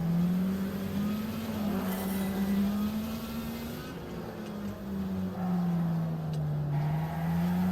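A race car in Wreckfest accelerates with a close, loud engine whose pitch climbs and drops through gear changes, a continuous revving roar with no voices.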